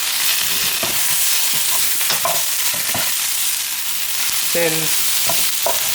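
Onions and peppers stirred and fried in a pan, with a steady close sizzle and scattered scraping clicks of a utensil against the pan, plus a short spoken word.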